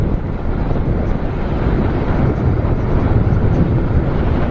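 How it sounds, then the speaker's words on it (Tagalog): Steady, loud wind buffeting a microphone while riding a Honda Supra GTR 150 motorcycle, a constant low roaring rush with no voices. "Parang hinaharangan ako ng hangin."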